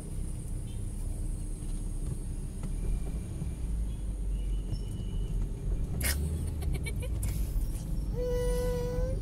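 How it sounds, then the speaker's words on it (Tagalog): Road traffic in heavy congestion fills the scene as a continuous low rumble of car and bus engines, with occasional sharper noises and a brief squeal near the end. "Traffic."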